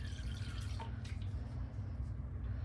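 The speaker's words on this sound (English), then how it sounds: "We are gonna add some Repti-Safe, just because the water from our faucet does have some nasty stuff in it." Repti-Safe water conditioner being poured into tap water for a ball python enclosure, a soft trickling drip near the start over a steady low hum, with no talking.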